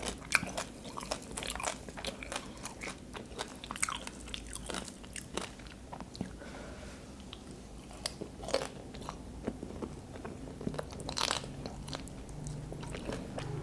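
Someone bites and chews roast suckling pig skin, some of it crisp and some still tough. Close, quiet crunches and snaps repeat irregularly throughout, with no talking.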